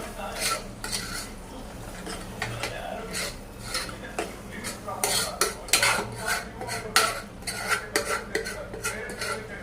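Spices being mixed in a pan with a metal spoon: repeated scraping and clinking strokes, close and fairly loud, in an uneven rhythm with no talking.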